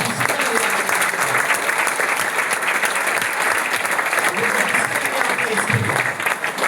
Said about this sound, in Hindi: दूसरा हाथ ऐसे ऊपर करके अपने आप के लिए तालियां बजा दीजिए